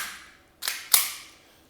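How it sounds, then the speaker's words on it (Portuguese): Calibration shots from a gun used with an advanced shooting simulator: two sharp cracks about a third of a second apart, the second louder, each with a short decaying tail, alone in a quiet room. "O primeiro disparo apenas para ferir, para ver se está legal."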